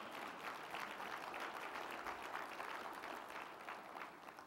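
Audience applause at a university chancellor's community breakfast, a steady, even patter of many hands clapping at moderate distance, holding without pause throughout.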